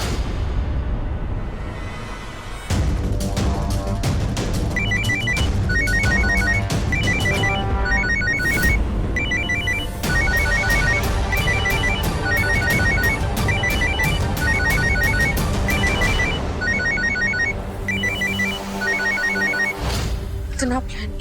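A phone rings repeatedly in a TV serial scene, bright electronic ringtone pulses cycling over a loud, busy music bed for most of the stretch.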